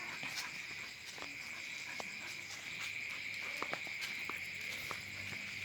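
Crickets chirp outdoors after rain, a dense, continuous high-pitched trilling layered with scattered short clicks and light patter, fairly quiet and steady with no talking.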